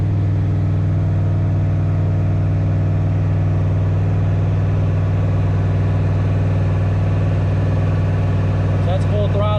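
Foxbody Mustang with an On3 turbo kit held at full throttle on a load-cell dyno at constant RPM: loud, steady, droning engine roar with a strong low hum, unchanging throughout, with a brief faint whistle near the end.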